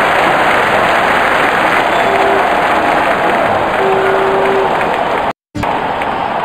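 Dense, loud crowd roar in the Real Cricket 19 mobile video game, a steady wash of cheering noise after a six is hit, with a faint tone above it and a brief cut near the end.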